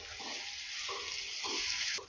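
Ridge gourd sizzles in a hot pan over a low flame under a constant bright hiss, broken by a few soft scraping stirs.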